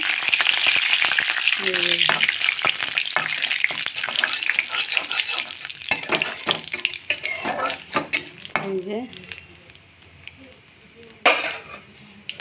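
A bay leaf drops into hot oil in a pan for a light Bengali pabda fish curry with jackfruit seeds, giving a steady bright sizzle with scattered clinks of utensils and brief stirring scrapes.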